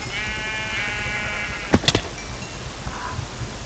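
Sheep in the Minecraft video game bleat briefly against steady background noise, followed by a faint second bleat a moment later.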